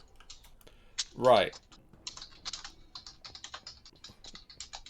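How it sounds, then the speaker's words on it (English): Rapid, dense keyboard typing and mouse-style clicking during a live Minecraft stream, a steady run of close, sharp taps with one louder swept burst near the start, faint talk underneath. "I can hear furious clicking."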